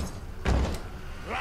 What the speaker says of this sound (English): use the door handle here